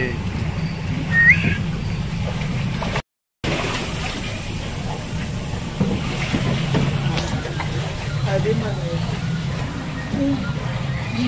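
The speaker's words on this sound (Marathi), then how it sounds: "रिव्हर सफारीमध्ये बसूया आणि पूर्ण एक फेरफटका मारूया. बोटीत निघालो आहे." Boat ride on a river safari in Bangkok, Thailand: a steady broadband rumble of engine, water and wind runs throughout, with voices and faint whistling over it and a brief dropout near the start.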